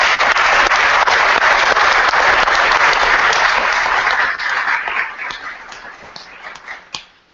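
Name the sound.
applause for school staff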